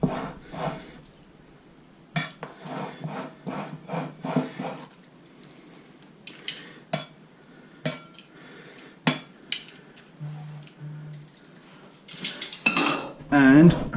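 Metal tongs tossing cacio e pepe pasta in a bowl, with repeated close clinks and scrapes against the dish in an irregular rhythm, a brief hum partway through and a louder clatter at the end.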